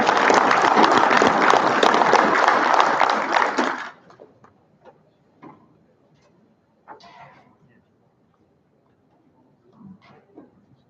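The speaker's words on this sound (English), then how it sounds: "One more round of applause" Audience applause at a DevOps Days Raleigh 2023 conference session, loud, dense clapping filling the room for about four seconds, then cutting off into quiet room noise with a few faint knocks and murmurs.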